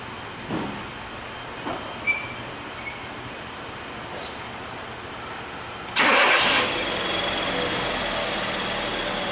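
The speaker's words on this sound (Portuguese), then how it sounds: "Funciona o carro aqui, deixa ele funcionando." A Fiat Grand Siena car engine starts after a few faint clicks and taps, cranking into a loud, steady idle that carries on to the end with no talk over it.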